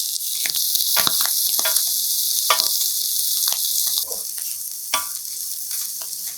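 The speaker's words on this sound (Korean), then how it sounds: "식용유 적당히 두르고 달궈지면 살 쪽으로 새우를 올리고 앞뒤로 노릇노릇하게 한번 지져내서" Shrimp fry in a hot, oiled pan over medium-low heat, laid flesh side down and browned on both sides. A steady, loud sizzle runs throughout, broken by scattered sharper crackles and soft bumps from turning pieces.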